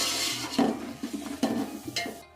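Ground garam masala is stirred into beef pulao in a metal pot, with a handful of spoon clanks and scrapes against the pot over soft shuffling of the rice and a faint sizzle, with no talking.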